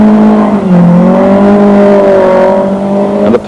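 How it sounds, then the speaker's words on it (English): Loud engine of a Peugeot rally car on gravel at the Snowline Rally in Ohakune, 1996, holding a strained steady drone as the driver locks up and crosses up, with a sharp change at the end; no voices. "And the Peugeot of Alan Hooper, locking up, crossing up"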